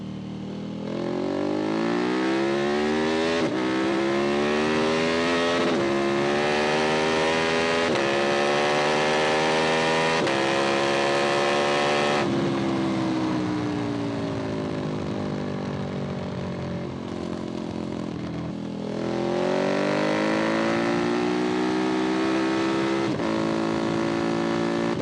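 KTM Super Duke 1290R motorcycle ridden fast alongside a ZX-10R and CBR650R, its engine loud and close throughout, pitch climbing and dropping through repeated gear changes with no voices.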